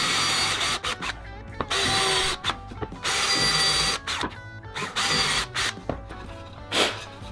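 A power drill whirs in several short bursts with brief pauses between, close by and fairly loud, with no talking, drilling shallowly into a boar head taxidermy form.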